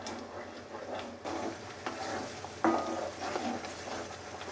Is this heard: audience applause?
no